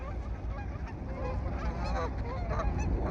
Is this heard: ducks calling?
yes